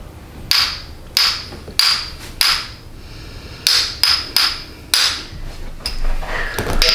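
Sharp hammer taps during a therapy session, about a dozen crisp, ringing strikes in irregular clusters, each decaying quickly, loud and close with no speech.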